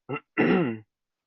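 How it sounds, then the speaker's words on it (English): A short throat-clearing cough: a brief grunt followed by a longer voiced rasp, close to the microphone and alone. "I have to cough"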